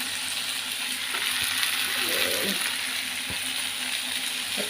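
Pepper and turmeric powder frying in a pan for Kerala fish curry, a steady soft sizzle with a brief stir scrape in the middle and a couple of faint clinks.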